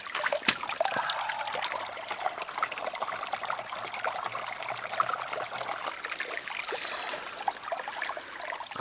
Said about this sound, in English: Ice cold runoff.